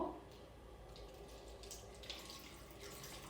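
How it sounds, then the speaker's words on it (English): Water pours from a container into an empty bottle with a soft, steady trickle and splash, faint and close, running continuously for a few seconds. "we're going to pour our water inside of our empty bottle"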